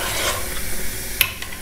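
A spoon stirs egg curry masala in a pan, giving a steady low sizzle and scraping under the motion, with one sharper clink of utensil against the pan near the end.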